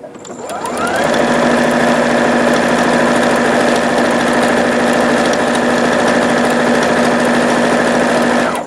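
A Singer Futura Quintet sewing machine runs smoothly after a bobbin repair, its steady mechanical whir and hum spinning up quickly and holding an even, loud drone for several seconds.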